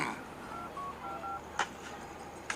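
Telephone keypad tones from a phone being dialed to place a call, a short run of beeps followed by two sharper clicks, faint over a quiet room.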